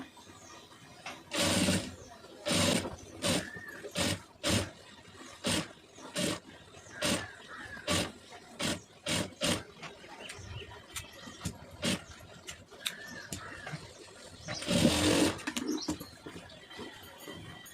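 Domestic sewing machine stitching the neck of a soft silk saree blouse, running in short repeated bursts with pauses between, fairly close and clear, no talking.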